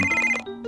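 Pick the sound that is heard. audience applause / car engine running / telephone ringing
telephone ringing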